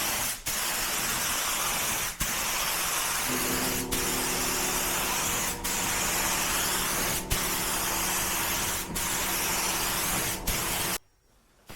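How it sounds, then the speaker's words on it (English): Spray gun laying white base coat over primer on a wrecked Honda Civic Type R FK8, a loud continuous hiss broken by short regular pauses, ending abruptly. "I'm going on with base coat straight onto the primer"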